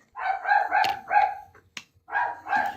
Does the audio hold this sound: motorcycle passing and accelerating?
no